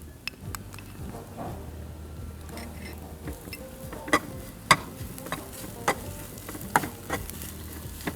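A filling roasts in ghee in a pan, a quiet sizzle under repeated sharp taps and scrapes of a spatula against the pan, spaced irregularly and growing more pronounced toward the end.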